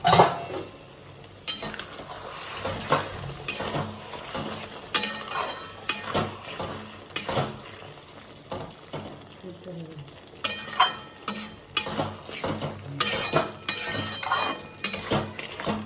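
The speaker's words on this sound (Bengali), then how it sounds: "এইবার মা কড়াইয়ের ঢাকনাটা খুলে নিচ্ছে" A lid is lifted off a kadai pan while prawn biryani cooks, followed by repeated metal clinks and scraping stirs over a faint sizzle, sounding close and rhythmic with no talking.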